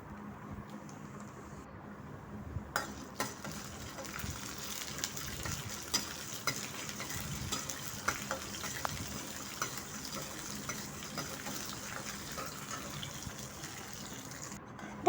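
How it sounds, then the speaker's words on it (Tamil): Urad dal frying in hot oil while roasting to golden brown, a soft steady crackling sizzle with small pops, fairly faint and continuous for the whole stretch. "கொஞ்சம் உளுந்து போட்டுக்கோங்க இந்த உளுந்து நல்லா கோல்டன் ப்ரௌன் கலர் வரைக்கும் நல்லா வறுக்கணும்"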